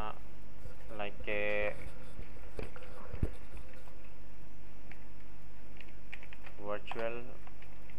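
Typing on a computer keyboard in Microsoft Word, short bursts of quick key clatter separated by pauses, close and clear, with a person talking over it.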